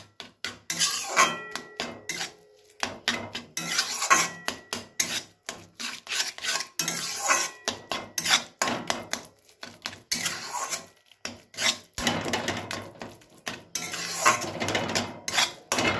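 A spoon scrapes and stirs a thick milk powder mixture for patisapta filling in a pan, with steady rasping strokes and pauses, close and fairly quiet.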